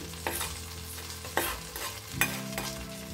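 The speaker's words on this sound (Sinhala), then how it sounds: "මේක කලවම් කරගන්න" A jackfruit curry with coconut milk is stirred in a pan: a few scraping spoon strokes over a gentle, steady sizzle, close by.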